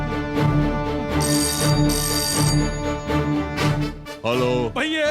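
Telephone ringing in a Hindi-dubbed South Indian action film scene, repeated electronic ring bursts with a melodic ringtone over background music, loud and close, ending in a rising warble.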